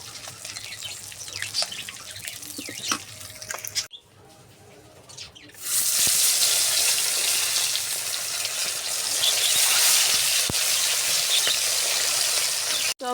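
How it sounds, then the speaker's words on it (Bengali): Pieces of fish frying in hot oil, a loud dense sizzle that swells in after a quieter stretch of small clicks and kitchen noises, then continues steadily to the end. "মাছ ভাজা হয়ে গেছে, আমি তুলে নেব।"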